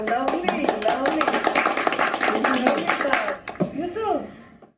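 A crowd claps at a birthday celebration for the actor Dilip Kumar, brisk overlapping applause that rises and then fades out, with voices heard toward the end.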